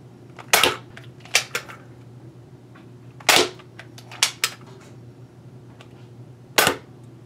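A Nerf N-Strike Nite-Finder toy dart blaster fires with sharp, loud plastic snaps, spaced irregularly and mixed with smaller clicks from priming and handling.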